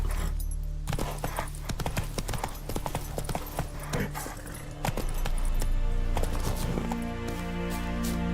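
Roach, a horse in the video game The Witcher 3, gallops with steady rapid clip-clop hoofbeats over a rumbling, loud background, joined later by sustained tonal game music.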